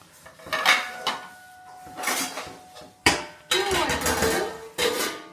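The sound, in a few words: child cleaning and wiping pots and utensils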